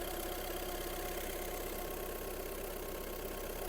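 Steady, even rumble of a 2012 Skoda Superb 1.6 TDI diesel engine idling close by, continuous with no revving and no voices.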